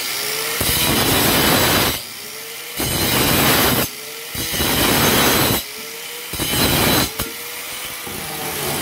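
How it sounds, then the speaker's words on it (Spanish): A handsaw cuts a bathtub drain pipe to length in short bursts of rasping strokes, loud and close, with brief pauses between the runs of sawing. "Lo vamos a cortar poquitito, no mucho,"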